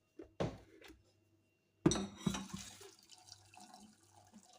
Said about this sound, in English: Then I put my hot water.